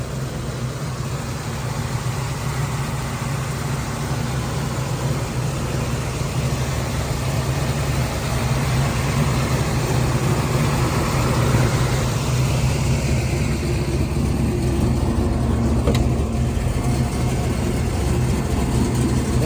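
A 1972 Ford Mustang Mach 1 fitted with an aftermarket cam, intake manifold, carburetor and MSD ignition idles close by. Its deep, steady rumble holds for the whole stretch with no talking.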